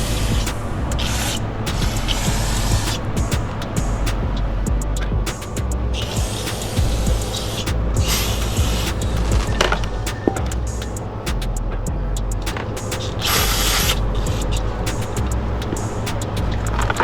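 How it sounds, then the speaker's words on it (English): Steady hiss of spray cleaner on the rear brake rotor and pad area of a Honda Goldwing DCT, broken by repeated spurts over a constant low mechanical hum, with no speech. "I just want to clean this rotor. And also the rear brake pad area."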